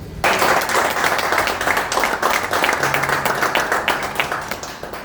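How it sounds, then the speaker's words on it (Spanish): A church congregation claps together, a loud, dense run of sharp hand claps that starts abruptly and carries on evenly for several seconds without talk. "Aplauda al Señor."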